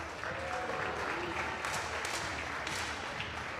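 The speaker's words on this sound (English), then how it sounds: "the crowd is cheering the players up" A crowd at a women's 10m air rifle shooting final applauds steadily, a dense, even burst of clapping that fills the whole moment without a break.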